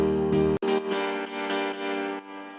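Unprocessed piano chord layer in a synth production session, fuller and darker, with a brief dropout near the start, then chords re-struck at a moderate pace, sustained and alone.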